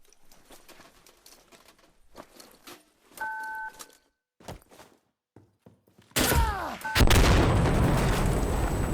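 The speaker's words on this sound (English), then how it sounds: "I have no idea how I didn't die from that explosion." A planted charge destroys a weapons cache in the video game Insurgency Sandstorm, producing a sudden loud, close blast with a long rumbling tail after quieter in-game footsteps and small clicks and tones.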